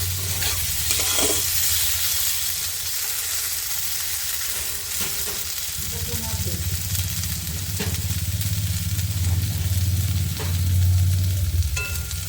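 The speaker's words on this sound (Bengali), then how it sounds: "দু মিনিট পর পর এইভাবে নাড়া দিয়ে নিচ্ছি" Pumpkin pieces fry in a pan while being stirred, with steady close sizzling and occasional scraping stir sounds over a low background hum.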